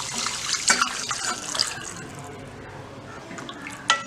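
Lentil cooking water pouring into a pot of gooseberry (nellikai) rasam, a steady liquid splash and trickle with a few brighter spatters, close and moderately loud, fading toward the end.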